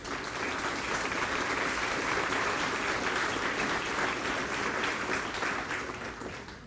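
Steady, sustained applause from a seated audience at a community awards ceremony, a full room clapping evenly for several seconds before tapering slightly at the end.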